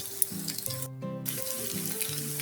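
Potato and egg snack shallow-frying in oil, turned over slowly as it browns, producing a steady, moderate sizzle under sustained background tones, with a brief dropout near the middle.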